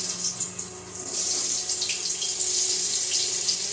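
Jackfruit pieces drop into hot oil and a loud, steady broadband sizzle takes over, swelling a little after the first second and holding strong throughout, with no talking.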